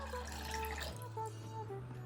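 Water pours steadily from a vessel into a pot for a panaka drink sweetened with jaggery, a continuous close splashing stream with a shift in pitch partway through as the level rises.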